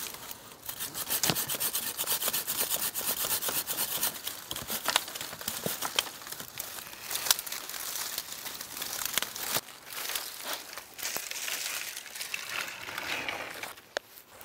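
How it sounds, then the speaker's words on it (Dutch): A small handsaw works through thick hazel branches outdoors. The rasping strokes come close, steady and repetitive for the whole stretch, and no voices are heard. "Om de hazelaar onder controle te houden, zaag je de dikke takken er eens in de 3 tot 5 jaar uit."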